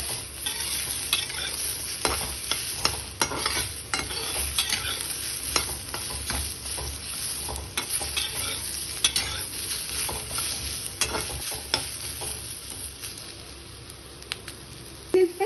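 Pointed gourd and onion fry in a pan, giving a steady close sizzle with scraping stirs and small clinks of a utensil throughout, alone without voices.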